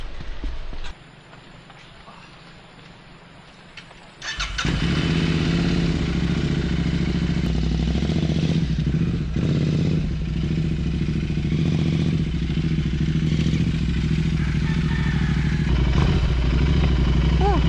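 A motorcycle near a riverside campsite in Tanay, Rizal, passes close by, its engine jumping from quiet to a loud, steady drone that holds for over ten seconds, with clattering and rattling mixed in.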